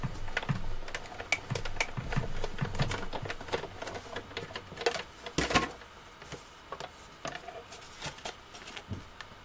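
Paper card is cranked through a die-cutting machine, giving a faint, irregular run of clicks, ticks and ratcheting taps with brief louder knocks, close by and without talking.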